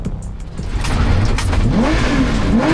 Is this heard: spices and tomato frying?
no